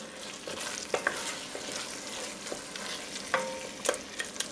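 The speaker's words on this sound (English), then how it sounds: "Stir this in. I'm going to let this come back to a simmer, which it is" A tomato paste casserole for stuffed green peppers simmers in a pot with a soft, steady bubbling sizzle, while a spoon scrapes and clinks against the pot a few times.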